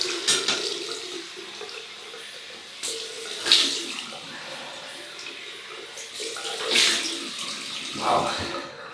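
A bathroom tap runs water for a cold rinse after shaving with a pearl semi-slant safety razor, flowing faintly in bursts with splashes, and someone speaks briefly.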